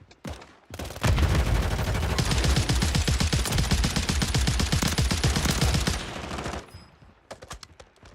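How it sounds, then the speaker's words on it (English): Sustained rapid automatic gunfire in a battle royale video game rattles loud and close for about five seconds, with a few scattered shots after it dies away, and no talk over it. "Not sure who he was shooting at."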